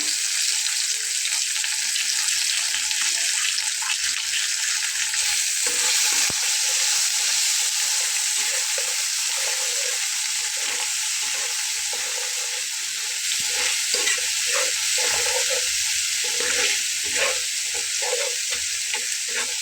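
Vegetables fry in a pan with turmeric and salt, a close, continuous sizzle broken by repeated scraping and stirring strokes throughout, with no talking.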